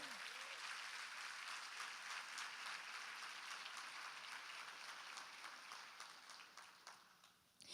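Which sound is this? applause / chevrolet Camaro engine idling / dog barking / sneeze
applause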